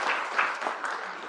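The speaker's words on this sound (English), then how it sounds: "join me in a warm round of applause for Dr." Brief warm applause from a lecture audience welcoming a speaker, a short burst of clapping that fades quickly.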